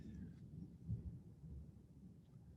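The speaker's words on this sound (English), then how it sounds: "I don't know if you could hear the thunderstorm coming in" An approaching thunderstorm sends a faint, distant thunder rumble: a low, steady roll heard alone in a quiet room with no talking.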